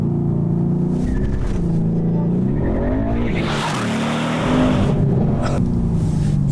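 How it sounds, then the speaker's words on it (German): A Mercedes-AMG car launching from a race start: a loud engine rev climbs and drops through gear changes, with a burst of tire noise in the middle and the engine pulling hard again at the end. "Alright, so now we've seen what the race start can do."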